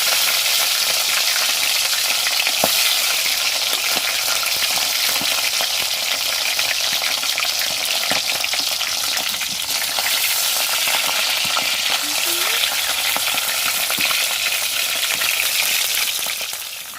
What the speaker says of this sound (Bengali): তেল গরম হয়ে গেছে, দিয়ে দিয়েছি হলুদ দিয়ে এবারে কড়াইয়ের মধ্যে দিয়ে দিলাম।